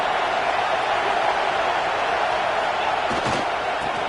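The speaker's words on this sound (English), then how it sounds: "listen to this crowd noise. This stadium is vibrating." Dense, steady roar of a packed stadium crowd at a Tigers versus Sooners college football game, loud and continuous throughout with no break.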